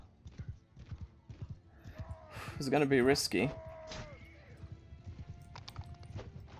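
Horses gallop in a Bannerlord battle with rapid hoof clip-clops, a loud whinny in the middle, and clashing noise, while someone talks over the action.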